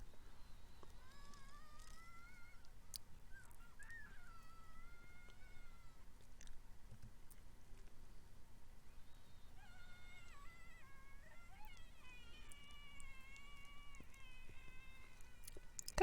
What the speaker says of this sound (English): Kind of sounds like a cat.